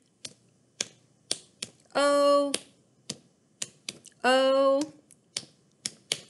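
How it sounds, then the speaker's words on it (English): Children clap along to the Bingo song in a series of sharp, separate claps. Two longer sung or voiced notes interrupt the clapping, and one brief spoken exclamation is heard. "they're all clapping"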